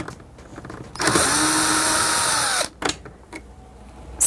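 A power driver spins out the screws holding the cable guard on a Vax Multifunction 6131 vacuum cleaner, one steady whirring burst of about a second and a half, followed by a few short clicks and brief revs.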